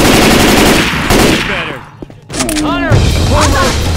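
Explosive rounds fire in Left 4 Dead 2, loud rapid bursts of game gunfire with booming impacts, broken by a brief lull and overlapped by shouted character voices.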